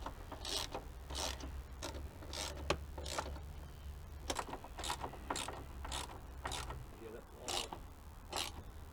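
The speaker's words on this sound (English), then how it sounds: "we're going to put the nuts on the mirror. Go ahead and tighten these up." A hand ratchet tightens the nuts on a replacement extendable door mirror of a GMC truck, giving repeated rapid clicking bursts close to the microphone, each stroke a short rasping run.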